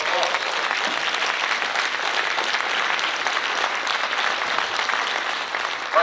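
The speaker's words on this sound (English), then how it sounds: "it's good to give a round of applause." Audience members at an Urban League graduation ceremony applaud in a sustained, even roar of many hands, steady and fairly loud throughout, with faint voices mixed in under the clapping.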